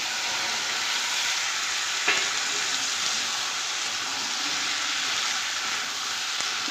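Potatoes and peas with split green chillies sizzle and fry loudly and steadily in a pan for a ghugni snack, a continuous crackling hiss with a couple of brief clinks of a spoon.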